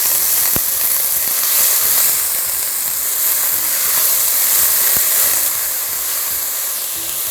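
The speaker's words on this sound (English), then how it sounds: "we're not looking for color, we're just looking to sweat this onion down a bit" Diced onion sweating in olive oil in a pan for marinara sauce gives a steady, close, bright sizzle and hiss that runs unbroken for several seconds with a few small pops and no talk.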